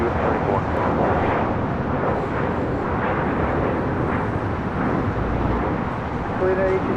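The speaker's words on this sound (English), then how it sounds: "Looks like we're getting the Air Tahiti Dreamliner flight heading to Paris. Making that right-hand turn onto Kilo." An Air Tahiti Boeing Dreamliner taxis at LAX, giving a continuous loud jet engine rumble and whine that stays steady for the whole stretch.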